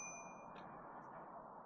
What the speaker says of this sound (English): On the right side you got a bell,